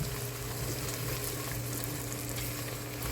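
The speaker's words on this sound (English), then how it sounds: "It's getting sauteed nicely." Sauteing in a pan while cooking mutton biryani produces a steady, dense sizzling and frying hiss that stays continuous and fairly faint, with no talk.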